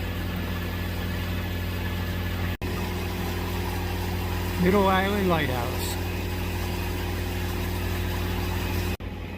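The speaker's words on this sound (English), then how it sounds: "It's flat calm, so we're running the engine right now" A boat's engine runs at a steady idle-like drone on flat calm water while passing Middle Island Lighthouse, with someone speaking over it throughout.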